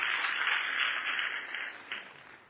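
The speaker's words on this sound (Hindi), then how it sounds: "एक जोरदार तालियां होनी चाहिए।" An audience at a celebration event applauds a bronze-rank award, a brief burst of massed clapping that starts full and fades out within a few seconds.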